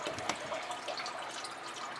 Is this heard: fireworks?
no